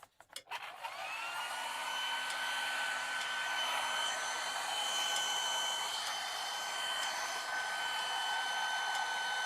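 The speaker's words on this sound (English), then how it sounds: "So I'm going to get my grandmother's hairdryer out." An old household hairdryer dries the color on a turned wooden bowl. A brief clatter as it starts is followed by a constant loud whining blow close by.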